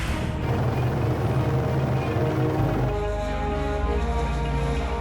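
A propeller aircraft, a 50-year-old Lockheed Electra, drones loudly and steadily in flight as heard from inside, a dense engine roar whose pitch shifts partway through, with no talking.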